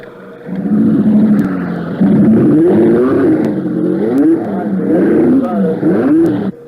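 Mario Andretti's number 5 Indy race car engine revs repeatedly at a close, loud level, the pitch rising and falling in quick surges with brief dips between.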